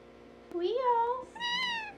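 A cat meows twice in close succession, the first call rising and falling, the second higher and steady, both loud and near, with a voice also present.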